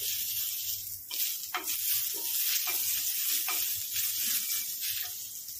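Onions frying in oil over a high gas flame, with a continuous, close, loud sizzle and an occasional stir, and no talk.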